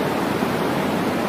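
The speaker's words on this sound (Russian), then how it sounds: "Такой вот водопад, у нас было наконец-то куча воды" A waterfall in Iceland roars in a dense, steady broadband rush, loud and close with no other sounds.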